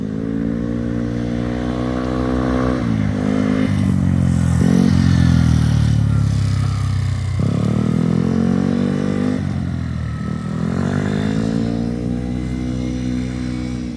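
A scooter engine rises and falls in pitch as it accelerates and shifts gears, loud and close, with wind noise throughout.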